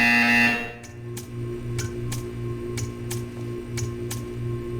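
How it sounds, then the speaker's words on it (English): Portal 2 test-chamber buzzer sounding in sharp, evenly spaced electronic pulses, about eight in a row roughly every half second, loud and close over a steady low hum. "You will hear a buzzer."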